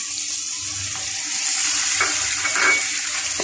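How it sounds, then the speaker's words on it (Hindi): Onion and garlic paste fries with chicken in a karahi, a steady close hiss and sizzle that swells slightly midway, with faint stirring scrapes underneath. "अब हम प्याज और लहसुन की पेस्ट को अच्छी तरह भून लेंगे"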